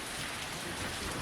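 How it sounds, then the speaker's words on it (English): Heavy hurricane rain from Hurricane Ian lashes down sideways in a steady, dense roar, close and loud with no pauses and no voices. "the rain is still sideways"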